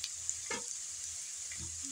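Onions and potatoes fry in a pan, a soft steady sizzle broken by a few scraping stirs of a spoon, quiet and close with no talk.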